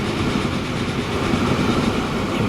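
A train in the Transport Fever 2 game rumbles past with a steady, loud, continuous roll and faint wheel clatter, alone without voices.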